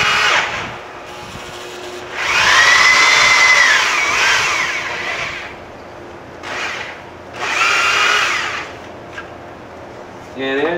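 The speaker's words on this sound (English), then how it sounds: "drill through the plastic till the head comes off" Power drill boring through the plastic head of a boat's gimbal ring, a high whining grind in several bursts of a second or two each, loud and close, with pauses and a shorter burst at the end.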